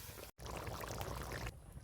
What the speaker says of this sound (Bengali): প্রথমে আমরা তেল দিতেছি ভাজার জন্য।